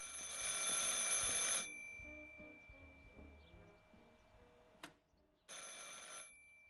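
Telephone bell ringing in the video game Martha Is Dead: a bright, loud burst of ringing, a quiet pause with faint background sounds, then a second burst of ringing.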